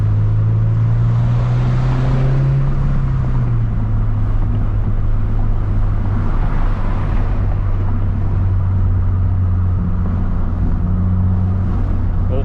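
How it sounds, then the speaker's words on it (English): Mazda Miata sports car engine cruising in fifth gear, a steady low droning hum with constant road and wind noise heard from inside the car, loud and continuous with little change. "Miata cruising in 5th gear."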